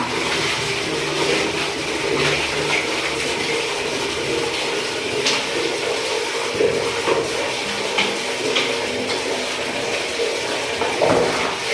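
Water splashing and running steadily while a toilet is washed down during household cleaning, a continuous close wash with scattered louder splashes.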